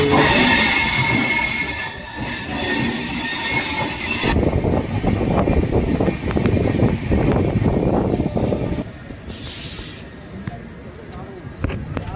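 A superfast express train between Visakhapatnam and Puri rumbles along with rattling wheels and rhythmic clatter, loud and close, with a sharp change in tone partway through as it moves on.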